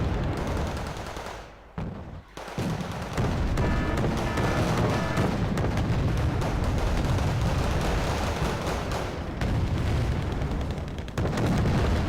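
Artillery barrages and heavy gunfire in the real-time strategy game Wargame Red Dragon rumble continuously and loudly, with dense overlapping blasts and booms broken by one brief lull near the start.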